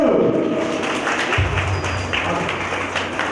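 A crowd claps together in a brief burst of applause, fairly loud, with a low thump partway through.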